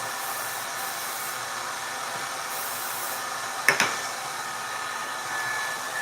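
A hair dryer blows close by with a steady, airy whooshing hiss as dry hair is blow-dried, broken by a couple of brief clicks partway through.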